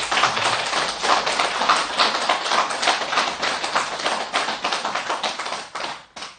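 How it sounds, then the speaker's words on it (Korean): An audience at a Buddhist dharma talk claps loudly and continuously, a dense patter of many hands close by that holds steady before tapering off at the end. "박수 크게 합니다"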